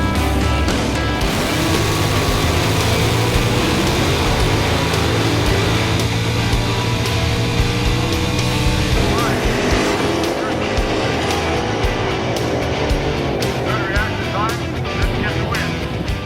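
Chrysler drag race cars roar through a heads-up race at a Columbus, Ohio event, engines loud and close throughout with a steady dense rumble and brief tire squeal, and crowd noise and voices underneath.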